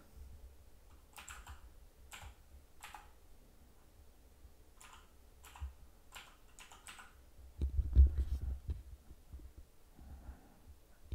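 Computer keyboard typing as text is entered in a video editor: irregular bursts of soft key clicks over a low room hum, with a louder thumping patch later on and no speech.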